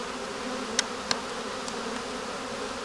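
A dense, steady hum of many honeybees buzzing close by inside a hive, with a couple of faint clicks over the drone.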